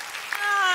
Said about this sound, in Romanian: Aplauze